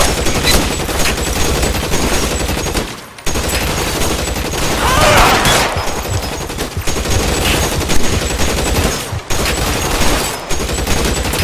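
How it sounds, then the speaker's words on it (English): Loud, dense gunfire in an L.A. Noire police shootout, rapid overlapping volleys of shots rattling almost continuously, broken by a few short pauses, with occasional voices underneath. "Shots fired."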